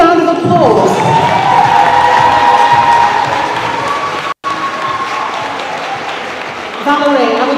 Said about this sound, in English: Can we get a bigger round of applause?